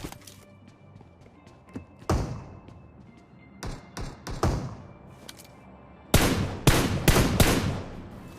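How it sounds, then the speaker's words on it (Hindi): Shotgun blasts in a battle royale shooter game: sharp, loud booming shots, one isolated early, then a cluster of three, then a rapid burst of four or five near the end, with faint clicks between. "एट द एंड उसने शॉटगन एक और बजा दी"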